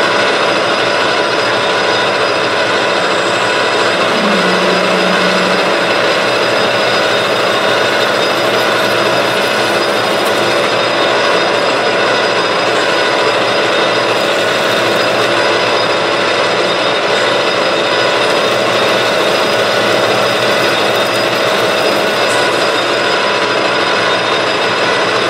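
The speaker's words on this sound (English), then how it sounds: "I'm going to rough drill the center to 25/64, and then we'll bore it to the final dimension." Rough drilling the center bore of a compact rotary broach part to 25/64 inch on a lathe, a steady loud machining drone with harmonic whine running continuously for the whole stretch, no talking.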